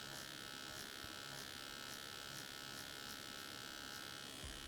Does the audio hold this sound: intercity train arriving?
no